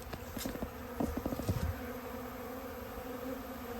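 Honey bees from commercial hives buzz around nearby, with a dense steady drone and several louder individual bees passing close to the ear, no voices heard.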